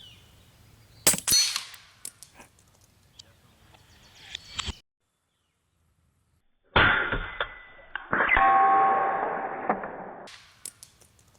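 A .30 caliber LCS SK19 PCP air rifle fires with sharp, loud cracks, followed by pellet impacts on a target. The shots come in two bursts separated by near silence, with ringing after the later shots.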